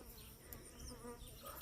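A honey bee buzzing near an annoyed beekeeper, a faint thin whine that wavers as it moves about, heard alone and fairly quiet.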